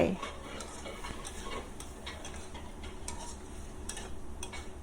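Pork and chili stir-frying in a pan with a little water added, a low, steady sizzle under repeated utensil scrapes and taps, fairly close.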